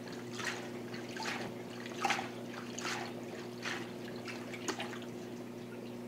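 Water dripping and trickling from indoor plants dipped in water, a series of soft, irregular splashy drips close by over a steady low electrical hum.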